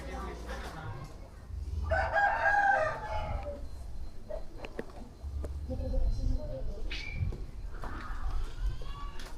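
Out in a village in Malang, Indonesia, a rooster crows once, mid-distance and moderately loud, amid murmuring voices and street ambience, followed by softer scattered clucks and noises.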